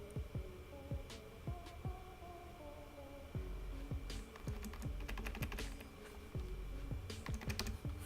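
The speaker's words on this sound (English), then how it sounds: "Use the bracket keys, left bracket to make it smaller." Computer keyboard keys click close by during a Photoshop editing session, a string of irregular single taps that speeds into quick bursts of rapid typing near the end.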